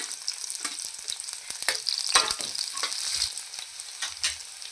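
Chopped onion hits hot oil in a pan for a Malvani chicken curry, crackling and sizzling with bright, scattered pops while a spoon scrapes and stirs, close and fairly quiet, with no talking.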